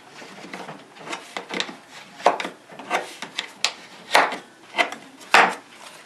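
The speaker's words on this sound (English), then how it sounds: "taking a curved scraper, turn the hook on this guy real quick" A curved wood scraper is worked to turn its hook for guitar carving, giving a series of short, sharp scraping strokes in an irregular rhythm, close and fairly loud against a quiet background.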